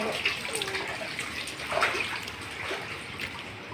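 Water splashing and trickling close by as someone washes their face in a pool during a night swim at Irigai Suite in Lubao, Pampanga. The sloshing is steady and moderately loud, with no clear speech.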